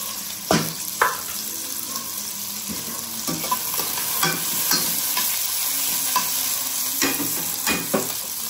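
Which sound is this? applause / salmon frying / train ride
salmon frying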